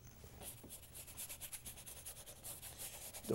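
Paint brush scrubbing on canvas, a soft rhythmic rasping with repeated back-and-forth strokes, quiet and close, ending in a brief louder bump.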